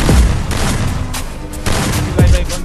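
Gunfire bursts from a mobile shooter video game, fairly loud, with a steady busy mix of shots and booms running through the whole moment rather than isolated single shots.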